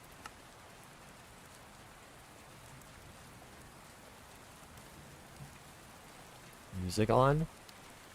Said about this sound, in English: No, I have rain noises. That's not music.